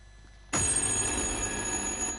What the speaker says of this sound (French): Qu'est-ce que c'est? Un téléphone